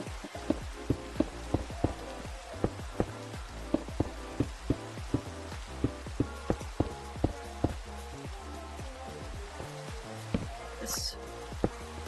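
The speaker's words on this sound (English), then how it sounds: "So we've got rain outside" Rain falls outside in a video game's farm and mining world, with scattered sharp drip-like taps over a steady soft patter and a faint background hum, all fairly quiet.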